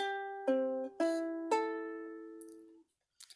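Ukulele strings plucked one at a time, four open notes in sequence, each ringing clearly, followed by a brief soft rustle.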